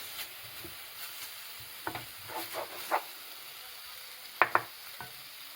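Ingredients sizzle faintly in a hot pan, a soft steady hiss with a few scattered pops and crackles, no voices.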